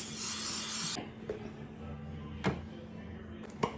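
A spray bottle spritzing garlic bread before baking gives one loud hissing burst close by, followed by quiet handling clicks and taps.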